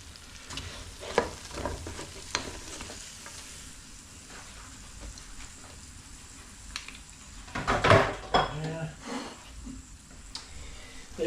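Fried fish and onion pakoras are lifted out of hot oil, with a steady sizzle of frying, scattered clinks and scrapes of a utensil, and a louder burst of bubbling partway through.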